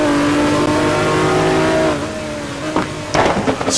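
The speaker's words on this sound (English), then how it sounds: "And you can hear they're just feathering the throttle." GT1 race cars at the Nürburgring on a slick track, engines droning close with rising and falling pitch as the throttle is feathered, then easing off and blipping briefly near the end.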